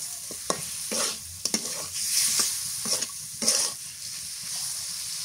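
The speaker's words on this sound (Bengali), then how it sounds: "এবার দিয়ে দিই মাছ, মাগুর মাছ, আর একটা হচ্ছে পাতা মাছ।" Pieces of magur and chanda (pomfret) fish frying in a pan, with a steady sizzle under repeated scraping stirs and a few sharp clinks of the spatula against the pan.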